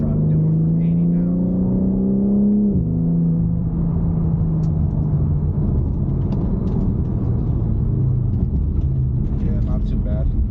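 A BMW G80 M3 with a lightweight brake kit fitted accelerates hard, its engine note climbing, then the revs drop sharply as it brakes down from 80, leaving a low road rumble and faint sounds of the cabin.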